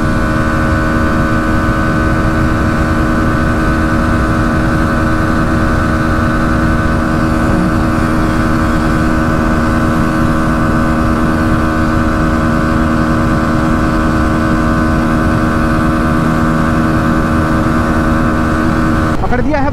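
Hero Xtreme 125 and Bajaj Pulsar NS 125 motorcycles in a road drag race, their engines holding a loud steady drone with wind rush. A rider talks over the noise.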